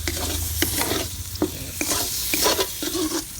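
Already-fried tofu sizzles in oily pan while being stir-fried for a chili-salt tofu dish, with repeated scraping strokes of a spatula cutting through a loud, continuous hiss; no one talks.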